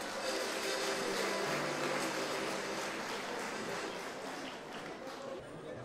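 A concert audience gives sustained, dense applause for a male choir at a 2019 summer evening concert. The applause is steady and full, then eases slightly toward the end.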